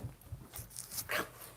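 Coda, a pet dog, gives a few short, fairly faint vocal yelps and whines spread over a second or so, with no one talking.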